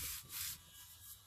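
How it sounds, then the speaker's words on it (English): Dried glue is rubbed off paper in an altered book, a faint close scratchy scrubbing in several quick back-and-forth strokes. "Just rubbing off that bit of glue there"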